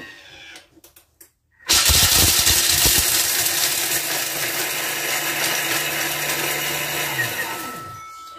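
A food processor grinding roasted whole almonds into powder, a loud, steady whirring roar with gritty rattling of nuts that starts abruptly after a few light clicks, runs several seconds and winds down at the end.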